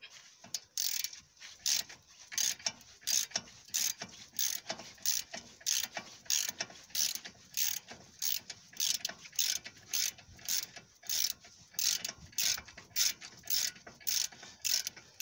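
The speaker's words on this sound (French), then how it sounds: "on finit avec un cliquet, tout simplement." A hand ratchet tightens bolts on a BMW 3 Series E46/E90 front brake assembly, giving a long run of crisp, evenly spaced clicking strokes close by.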